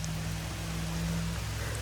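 Steady, dense rain hisses evenly throughout at Matheran, with a faint low hum underneath and no voices.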